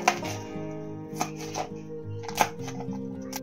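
A knife chops chilies and garlic into small pieces for a homemade mixed garlic-chili pickle. A few sparse, crisp cutting taps sound over a quiet steady musical background.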